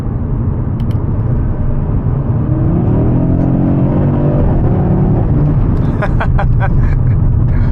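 An Audi RS3 engine pulls hard on a back road, a loud steady drone rising in pitch as the car accelerates, with a brief burst of clicking and ticking noise near the end.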